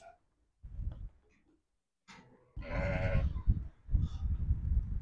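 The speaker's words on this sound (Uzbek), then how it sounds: "Yeni qo'ylar, cho'ng qo'ylar." Sheep bleat on a farm in Andijan, Uzbekistan: a few moderately close, wavering bleats arrive in short bursts, the loudest in the middle, with quieter animal noises and shuffling between them and no talking.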